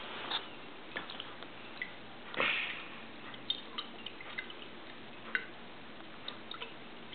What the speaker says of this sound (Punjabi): ਹੁਣ ਮੈਂ ਇਹਨਾਂ ਨੂੰ ਹਿਲਾਵਾਂਗਾ ਤਾਂ ਕਿ ਕੈਮੀਕਲਸ ਰਲ ਜਾਣ।